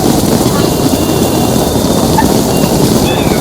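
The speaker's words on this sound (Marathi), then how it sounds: "पण हा भयंकर पाऊस आहे." Heavy monsoon rain pours during a Ganpati aagman procession, a loud, dense and unbroken hiss of downpour with some wind buffeting the microphone.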